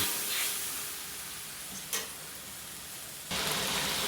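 Chicken frying in a pan with tofu stirred in, a steady close sizzle with a brief scrape near the middle and a louder burst of frying toward the end.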